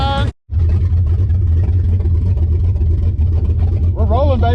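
The engine of White Wedgie, an old vehicle being fitted with a fuel cell, runs loud and close with a steady low rumble as it pulls away, while voices talk and shout over it.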